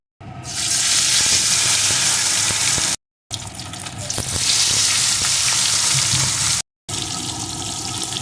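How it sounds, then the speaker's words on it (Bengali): Fish coated in salt and turmeric fries in hot mustard oil with a loud, close, continuous crackling sizzle that swells and settles, broken by two short silent gaps. No voices are heard. "তেলটা গরম হয়ে গেছে এখন আমি লবণ হলুদ মাখানো মাছগুলোকে প্রথমে দিয়ে দেবো"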